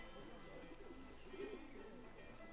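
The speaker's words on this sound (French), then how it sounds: "y'a même des pigeons dans le futur" Pigeons coo softly in the game Atomic Heart, a low murmuring call that rises briefly midway, set against a steady ambient game soundscape.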